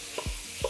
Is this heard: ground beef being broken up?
yes